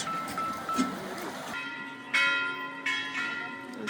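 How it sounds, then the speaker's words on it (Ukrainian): Church bells ring outdoors, several bright metallic strikes that swell and overlap with long ringing decay, heard at a moderate distance over a flowing river. "Це дзвони церкви."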